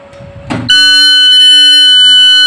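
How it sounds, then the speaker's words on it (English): Furuno BNWAS BR-500 bridge watch alarm buzzer on a ship, a loud, steady electronic tone that starts abruptly after a short rustle and holds continuously, shrill and piercing, with no talk over it. "the other stage is to pass to the alarm"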